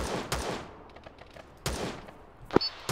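Gunfire from the ARMA 3 combat game: two sharp, loud shots a little over a second apart, each followed by a fading echo, then a brief metallic crack near the end.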